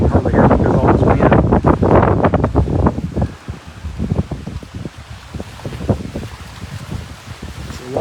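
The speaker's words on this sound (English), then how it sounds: "You can hardly hear because all this wind." Strong gusts of wind buffet the microphone outdoors beside Weiss Lake, a loud rumbling roar that stays heavy for the first few seconds and then eases a little, with a voice speaking over it throughout.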